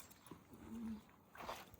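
A Jack Russell terrier at a breeding kennel gives a short, low growl, faint and close, with a brief whine-like sound at the end.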